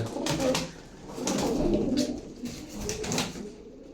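Soft, repeated cooing from several nearby pet tumbler pigeons and their young, rising and falling in low rolling phrases.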